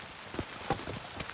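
Soft rain patters faintly in The Witcher 3, scattered light drops tapping a surface over a steady hiss.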